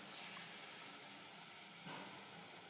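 Sweet punugulu dough balls fry in oil in a pan, making a steady, faint hissing sizzle that continues evenly throughout with no talking.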